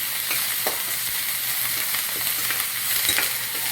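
Onions sautéing in a spice tempering for pepper rice, a loud continuous hissing sizzle throughout with faint stirring scrapes now and then.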